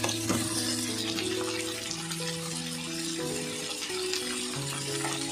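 Onions fry in tempered oil for Kolkata Golbari-style mutton kosha, giving a steady, close sizzle under pitched music for the whole stretch, with no one talking.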